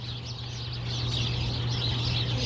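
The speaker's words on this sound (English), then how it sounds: "Birds are going crazy over here." A crowd of birds chirps noisily near an animal feed area. The dense, continuous twittering is backed by a steady low hum.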